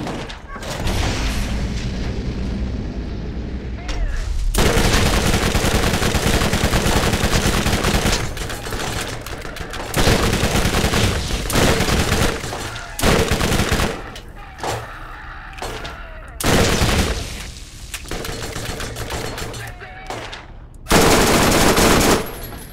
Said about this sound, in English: What are you shooting at? Where are you shooting from?